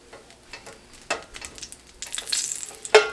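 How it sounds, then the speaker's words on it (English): Butter sizzles in a cast iron skillet during a beef pot roast sear. A soft hiss swells louder over the last second, then a sharp clatter lands near the end. "I'll just throw a little bit more butter in here."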